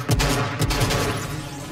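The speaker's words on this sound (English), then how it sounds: "He just missed 7 shots." Video game gunfire crackles in a quick, loud burst of several shots close together, with a sustained noisy backdrop between the cracks.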